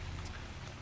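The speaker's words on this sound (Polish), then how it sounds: "Deszcz leje, znowu będziemy mokri i znowu będziemy niezadowoleni." Rain pours steadily in Cataclysm: Dark Days Ahead, a continuous soft wash of falling drops with no other sounds over it.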